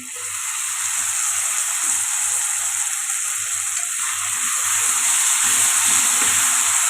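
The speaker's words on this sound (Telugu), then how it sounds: "ఇవి ఫ్రై అయింది కదండి ఇప్పుడు టమాటా ప్యూరీ వేసుకుందాం" Tomato puree fries in a hot pan for a matar paneer masala, giving a steady, loud, close sizzle that runs unbroken the whole time with no talking.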